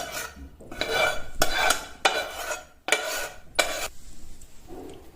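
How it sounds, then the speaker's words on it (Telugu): Fried tomatoes and green chillies being gently pounded in a mortar, a series of soft, rhythmic grinding strokes close by, each lasting about half a second, with no talking. "మెల్లగా వీడియోలో ఎలా చూపిస్తున్నానో అలా దంచుకోండి"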